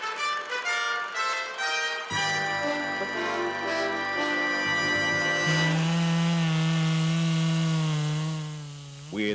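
A chainsaw cuts trees in a British Columbia forest, its engine whining with a strong buzzing tone that shifts pitch as it bites in and revs. It is loud and close and runs continuously with no talk.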